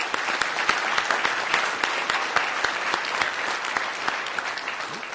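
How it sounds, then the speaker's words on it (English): Conference attendees at DrupalCon Baltimore applaud after a university case-study presentation, a sustained burst of many hands clapping with sharp individual claps standing out, fairly close and loud, with no talking. "let's give a round of applause to everyone for the presentation"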